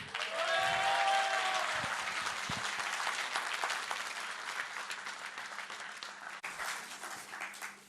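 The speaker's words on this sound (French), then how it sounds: "Je vous demande de faire un tonnerre d'applaudissements à Uriel Demirjian, s'il vous plaît." An audience breaks into loud, sustained applause, many hands clapping together, gradually fading slightly toward the end.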